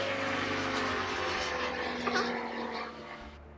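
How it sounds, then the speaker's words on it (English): Propeller airplane droning overhead on a clear day, a loud steady engine roar holding throughout without any talk. "That's a plane. I don't know if you guys can hear it."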